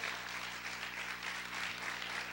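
Congregation clapping loudly in praise to God during a church service, a continuous, fairly distant wash of applause with faint background tones underneath.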